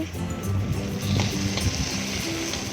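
Washed bhog rice is stirred into a frying spice paste, producing a close, wet sizzle mixed with soft scraping and shuffling from the stirring, no talking.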